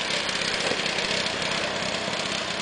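A go-kart engine buzzes steadily on a track at Lynchets, a continuous mid-distance drone that sounds slightly rough, with no speech.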